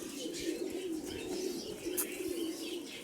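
Soft, repeated cooing of pigeons close by, a low rolling murmur with faint chirps and rustling mixed in.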